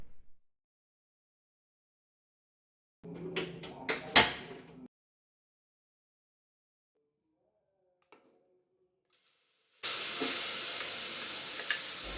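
Sizzling and frying of ground garlic in a pan starts partway through, loud and steady, after a few clattering kitchen knocks and a stretch of quiet.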